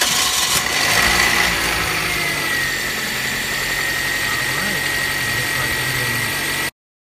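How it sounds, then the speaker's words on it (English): A 2007 Toyota Corolla engine catches and settles into a steady idle after a belt replacement, a loud mechanical hum with a faint whine, then the sound stops abruptly. "now that we started our '07 Corolla"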